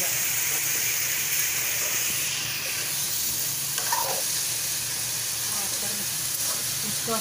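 Ridge gourd curry sizzling steadily in a pan as it is stirred, a continuous hissing fry with occasional scraping, close up and even throughout.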